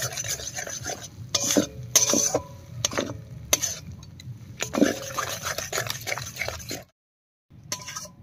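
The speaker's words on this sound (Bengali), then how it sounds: "টক দই দিয়ে মশলার সঙ্গে খুব সুন্দর করে কষিয়ে নিয়েছি" Sour yogurt is stirred into spice paste frying over low heat for an egg curry. Close, choppy bursts of spoon scraping and clinking over a low sizzle end with a brief pause, then a final stir.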